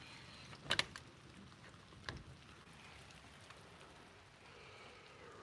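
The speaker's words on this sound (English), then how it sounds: "We're getting a lot of rain here." Rain falls outdoors as a soft, even hiss, quiet and continuous, with a couple of brief knocks or taps early on and no voices.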